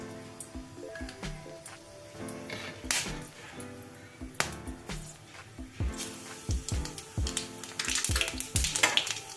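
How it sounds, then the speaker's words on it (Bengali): A dried red chilli torn in half and half a teaspoon of nigella seeds sizzle in hot oil, with crackling and popping spatters over a steady fry and clinks from stirring in between. "তেলটা গরম হয়ে গেছে এখন আমি এর মধ্যে ফোড়ন দেব তো একটা শুকনো লঙ্কা দেখো অর্ধেক করে ছিঁড়ে দিয়ে দিলাম আর দিয়ে দেব হাফ টিস্পুন কালো জিরে"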